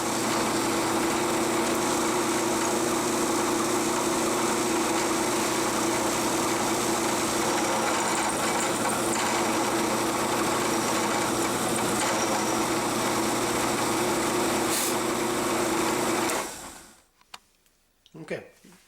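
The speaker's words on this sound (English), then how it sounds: "my carbide end mills have arrived. So let's carve it out." A milling machine drives a carbide end mill through a sailboat traveller clip, giving a loud, constant whirring, grinding drone with a steady tone that runs unbroken, then stops near the end and leaves only a few faint knocks.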